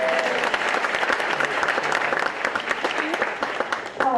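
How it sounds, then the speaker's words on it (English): An audience at the PIFF 2018 event applauds Molly Shannon, a dense, close wash of clapping that holds steady for the whole stretch and trails off slightly at the end. "Pause for applause."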